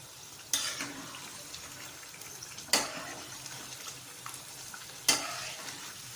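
Chicken biryani masala with added water stirred in a pot over high heat, a steady frying sizzle broken by three sharp scraping stirs at regular intervals.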